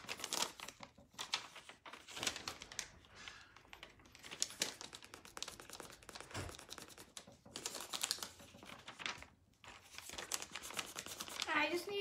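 Material being slowly peeled away from a purse during an upcycling job gives crinkly, crackling tearing sounds that continue throughout, with a person talking over them.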